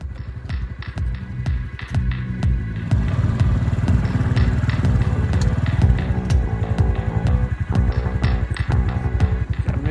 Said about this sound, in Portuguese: Vou dar uma voltinha de moto pra vocês verem como ficou.